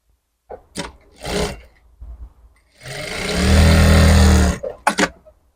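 A sewing machine stitches the hem of a salwar in one steady motorized run of about two seconds, framed by short bursts of handling and fabric noise before and after.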